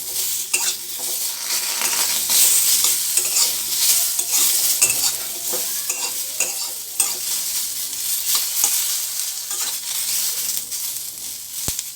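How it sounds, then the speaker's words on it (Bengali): Chopped tomatoes frying with potatoes in a pan, giving a steady bright sizzle while a utensil scrapes and stirs in irregular strokes, close and continuous with no talk. "টমেটোটা কাটা হয়ে গেছে। এটা আমি আলু ভাজার সাথে দিয়ে দিলাম।"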